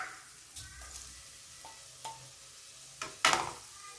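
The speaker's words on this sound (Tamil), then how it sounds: "இப்போ நம்ம நல்லா மிக்ஸ் பண்ணிக்கலாம் நம்ம டொமேட்டோ போட்டுக்கலாம்" Tomatoes are stirred into egg thokku in a pan, with a few scraping strokes and soft sizzling, ending in one louder scrape near the end.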